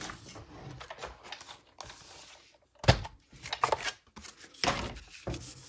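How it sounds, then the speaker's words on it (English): A Big Shot die-cutting machine cutting paper pieces for a card-stock treat holder, giving a few close mechanical clunks and rattling bursts separated by short quiet gaps. "now I'm going to bring the Big Shot in just so I can cut these two pieces"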